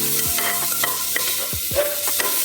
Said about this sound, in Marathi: छान मऊ होस्तोवर आपल्याला परतून घ्यायचा आहे कांदा